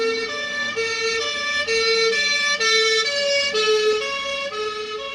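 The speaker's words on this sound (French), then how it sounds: "quand on entend la sirène d'une ambulance qui passe devant nous" An ambulance siren wails in a loud, continuous, repeating two-tone pattern. The pitch shifts slightly as it passes, and it carries alone throughout.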